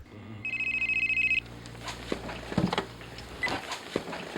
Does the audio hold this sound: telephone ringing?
yes